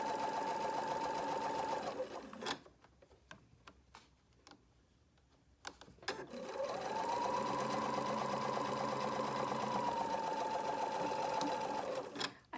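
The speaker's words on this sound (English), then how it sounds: "continue to stitch to the end." A sewing machine stitches a 1/4 inch seam on a ribbed cuff, running in a steady hum for about two seconds, pausing with quiet clicks, then running again for a longer stretch.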